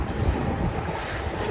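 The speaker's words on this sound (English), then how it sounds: "I feel like it's very windy" Wind gusting outdoors on a blustery day while walking, buffeting the microphone with a low, steady rumble and no voices.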